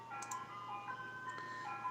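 Faint, far-off chiming of an ice cream truck playing Turkey in the Straw, a tinny looping tune drifting in steadily with a couple of soft clicks nearby and no voices.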